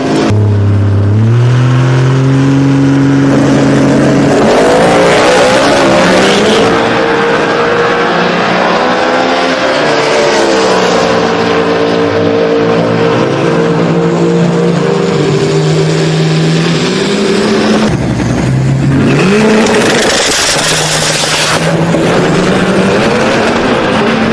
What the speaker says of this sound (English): Wheel standing Camaro on the right-hand side. Bob Gruber in the stick shift Mustang left-hand side